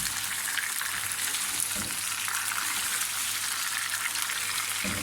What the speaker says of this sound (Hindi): ये मैं टमाटर डाल दूँगी।